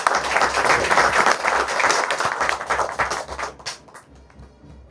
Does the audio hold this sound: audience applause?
yes